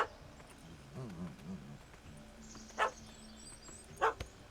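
A dog barks a few times in the Witcher 3 video game: low sniffing and whining sounds, then two short, sharp barks that stand out against quiet in-game ambience.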